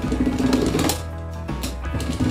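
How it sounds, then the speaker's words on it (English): A pastry docker rolled over gluten-free soda cracker dough, giving a loud, steady rattling buzz of pricking spikes that briefly dips before resuming, close up with no speech. "I'm gonna use my docker because I find a docker is really quick."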